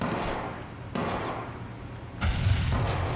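Several heavy, booming blasts from Watch Dogs 2 gunfire and explosions hit in quick succession, loud and close, over a rumbling low background.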